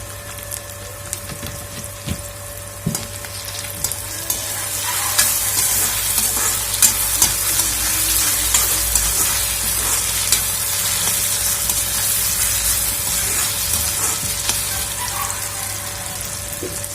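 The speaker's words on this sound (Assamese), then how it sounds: "আলুখিনি অলপ ফ্ৰাই হ'বলৈ দিছোঁ।" Potatoes and tomatoes fry and sizzle in a pan, a loud continuous hiss broken by scraping stirring strokes, close and without talk.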